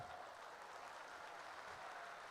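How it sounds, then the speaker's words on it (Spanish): Applause from a conference plenary audience, a steady even patter of clapping that fills the whole moment at moderate, somewhat distant level. "Fuerte aplauso para ustedes."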